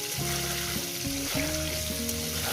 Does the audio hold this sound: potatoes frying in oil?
yes